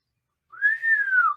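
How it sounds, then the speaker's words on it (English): A single person's whistle, one clear sustained note that rises slightly and then slides down, heard alone after a brief silence. "That was a terrible whistle."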